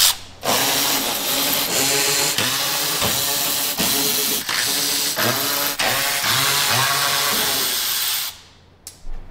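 A ratchet works loose Torx T27 bolts on the underbody panels of a Ferrari 458, steady loud clicking bursts repeating for several seconds and stopping near the end.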